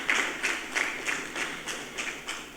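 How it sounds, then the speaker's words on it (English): An audience at a corporate keynote talk claps together in a slow, steady, rhythmic beat, about three claps per second. The sound sits at a moderate distance, with no talking. "Let's give a round of applause to them."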